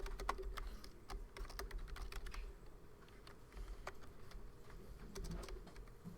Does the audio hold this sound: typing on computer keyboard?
yes